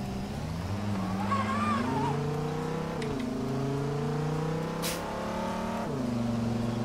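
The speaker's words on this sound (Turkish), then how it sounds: "Tekrardan gaza basalım." A Dodge Challenger in Euro Truck Simulator 2 revving and pulling through gears, the engine note climbing and then dropping at each shift change, steady and fairly close throughout.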